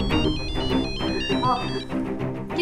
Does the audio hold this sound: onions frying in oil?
no